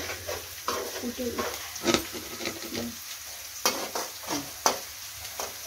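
Sliced onions and boiled broad bean (godu chikkudukaya) pieces fry in a pan for a masala curry, with a close sizzle broken by repeated scraping stirs of a spoon.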